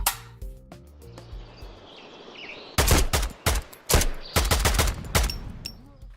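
Bursts of AK-12 rifle fire in a video game, loud and close, arriving as several rapid automatic volleys separated by short pauses, with a quieter stretch of game ambience and a brief musical motif before the shooting begins.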